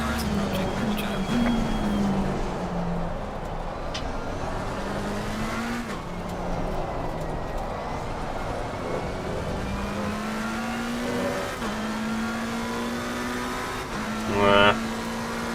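Racing cars in a sim-racing game on the Nürburgring or Kyalami circuit, engines droning steadily throughout with rising and falling pitch as faster cars close in and pass, a brief louder burst near the end, with a voice talking over it.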